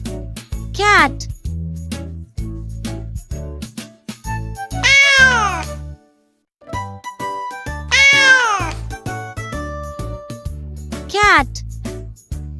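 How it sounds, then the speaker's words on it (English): A cat meows four times, long rising-and-falling cries spaced a few seconds apart, over light children's music in a farm animal sound lesson. "Cat."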